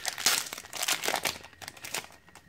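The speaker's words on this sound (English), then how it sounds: "I'm opening 50 packs" Plastic wrappers of Pokemon Sun and Moon three-card packs crinkle and tear loudly up close in several bursts, then fade to softer rustling.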